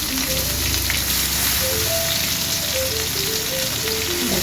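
Onion, tomato and cumin fry in a pan for chana masala, with loud, constant, close sizzling and occasional light scraping as the mixture is stirred.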